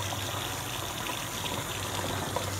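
Water from a Shasta camper's plumbing rushes steadily and noisily at close range, sputtering and hissing with air still trapped in the lines.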